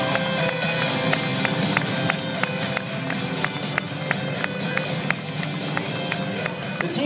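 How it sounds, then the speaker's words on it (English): Outdoor crowd in Stittsville applauds the OPP Golden Helmets motorcycle precision riding team, steady scattered clapping with sharp individual claps standing out over a continuous wash of crowd noise. "Please give them one last round of applause."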